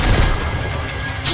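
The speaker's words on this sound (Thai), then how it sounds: "เสียงปืนมันซ้อนอยู่" Overlapping machine gun and shotgun fire in the survival game Mist Survival, a dense, continuous rumble of loud shots running together with no gaps, then a sharper burst near the end.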